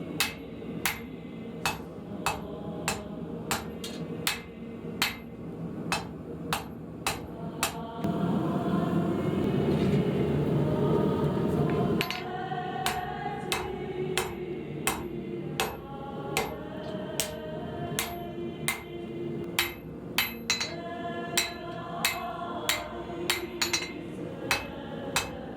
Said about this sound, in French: on va commencer avec le forgeage de la lame dans une barre d'acier XC75